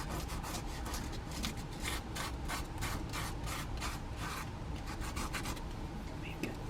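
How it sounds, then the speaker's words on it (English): A tool scraping dried salt off a watercolor painting makes a quick series of rhythmic, close rasping strokes over a low background hum. "I'm going to scrape off some of the salt"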